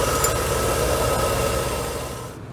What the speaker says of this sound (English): Engine sounds so smooth.